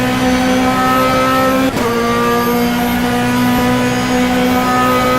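A GT2 race car engine in the rFactor racing game at Suzuka holds a loud, steady high-rev drone with a strong harmonic whine, broken by one brief gear-shift dip early on, with no talking.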